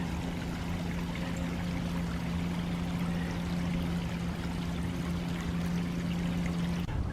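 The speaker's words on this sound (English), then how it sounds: "There's a little bit of water running under the bridge." Water runs beneath the Boy Scout footbridge in Iroquois Park, a steady, even rushing that stays constant throughout, with a faint low hum beneath and no voices.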